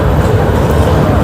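The Kriya Yoga Express pulls out of platform 22 at Howrah station with a steady low rumble and rattle of the moving train, constant and fairly loud, with no distinct horn or announcement.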